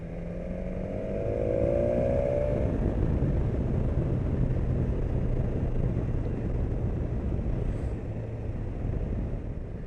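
A 2019 BMW S1000 XR four-cylinder motorcycle engine runs steadily in a dense, even, loud drone, with a brief higher tone near the start.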